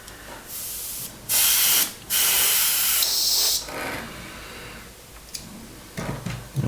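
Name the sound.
spraying gloss paint on Airfix Spitfire model engine mount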